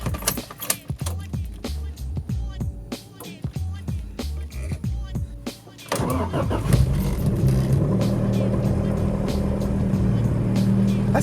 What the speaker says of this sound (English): I'm gonna go ahead and put my intake back on and start the car up and see how it sounds.